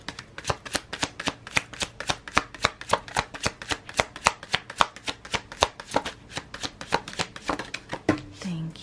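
Tarot cards being shuffled, a quick steady series of crisp close riffles and taps that ends in a softer rustle as a card is drawn.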